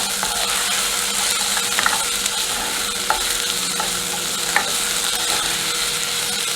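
Capsicum and diced onion sauté in a hot pan, giving a steady, close sizzle throughout with occasional light clinks and scrapes of stirring.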